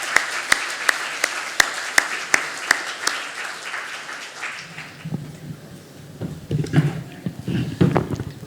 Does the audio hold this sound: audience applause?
yes